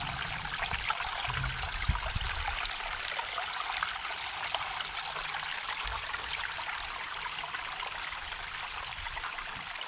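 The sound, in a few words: water flowing over a garden waterfall cascade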